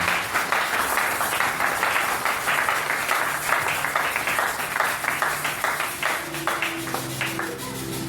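A church congregation at a Sunday service claps steadily and rhythmically for several seconds, a dense continuous applause with faint tonal music underneath.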